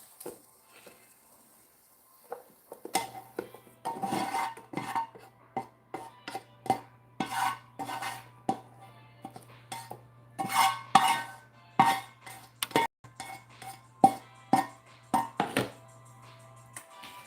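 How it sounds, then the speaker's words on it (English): A metal pan picked up and handled in a home kitchen, with a run of irregular clanks, taps and knocks of varying loudness, close and without talk. "Let me just take this pan and"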